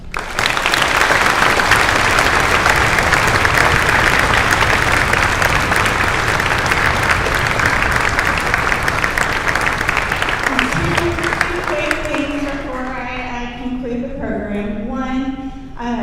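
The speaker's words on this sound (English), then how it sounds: "Spartans, let's show them just how grateful we are with one more round of applause" Students at a middle school Veterans Day celebration give veterans a sustained, loud round of applause filling a large room, fading near the end as a voice begins talking over the dying clapping.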